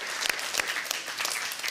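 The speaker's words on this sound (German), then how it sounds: "Das verdient auf jeden Fall nochmal einen extra Applaus an dieser Stelle" Studio audience at a children's TV show applauding, a brisk, steady patter of many hands clapping at close range throughout.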